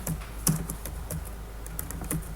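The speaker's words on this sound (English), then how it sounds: "I'm going to type localhost" Keystrokes tapped on a computer keyboard while typing a web address into a browser, a quick run of close, crisp clicks with a slightly louder cluster near the middle and no voices.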